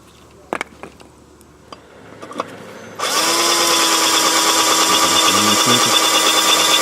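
A power tool works to remove a stuck screw from a motorcycle, starting after a few quiet clicks and taps, then running as a loud, steady, high-pitched whine close by.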